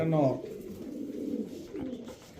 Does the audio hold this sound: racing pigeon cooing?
yes